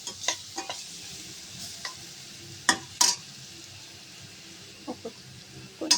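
Garlic, green chili, ginger and cumin fry in a pan for a spinach garlic dish, a low sizzle broken by scattered spatula scrapes and clinks.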